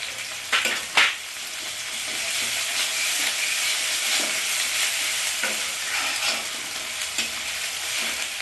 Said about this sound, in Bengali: এবার আমি আদা বাটাটা দিয়ে দেবো